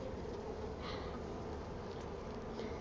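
Honeybees hum at a calm hive in a steady, moderately faint drone that holds unbroken from start to finish.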